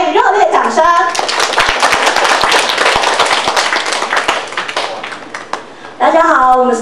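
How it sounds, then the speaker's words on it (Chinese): A student audience at a school essay presentation breaks into sustained, loud clapping for a performing group, dense and close, tapering off toward the end, with a voice speaking briefly before and after. "请给予热烈掌声。"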